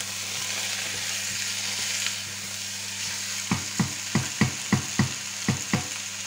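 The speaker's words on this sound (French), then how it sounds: "Et on remue." Onion frying in a pan for turkey osso buco, a steady sizzle with a low hum, then a run of regular spatula scrapes and knocks as it is stirred in the second half, no talking.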